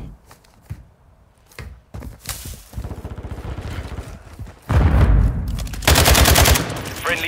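Rapid shotgun and automatic gunfire from a Call of Duty Modern Warfare 2 hardcore team deathmatch match: scattered sharp shots at first, then dense, loud bursts of overlapping blasts that build toward the end.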